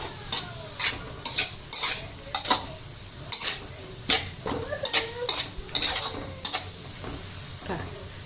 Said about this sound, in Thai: ผัดค่ะ ผัดให้เข้ากันนะคะ